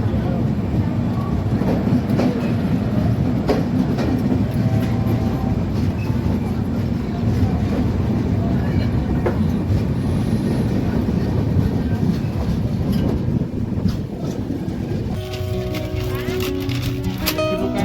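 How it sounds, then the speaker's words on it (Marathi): Dikshabhumi Express train running on rails from Nanded, heard from inside the coach: continuous loud rumble and rhythmic clickety-clack of wheels over rail joints throughout, with a brief shift in tone near the end. "तर नांदेडवरून आपली गाडी निघाली आहे"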